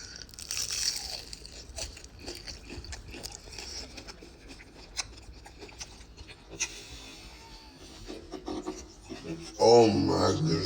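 Spicy fried chicken wings from a Washington restaurant, bitten and chewed with repeated crisp crunches close to the mic, and muffled talk underneath.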